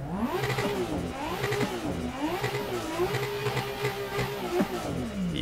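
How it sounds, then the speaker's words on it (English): Straight-six 2-liter car engine in Assetto Corsa, its note rising and falling steadily as it revs up and settles again, loud and clear with no talk over it. "let's quickly take a listen to this beautiful sounding straight 6 2-liter"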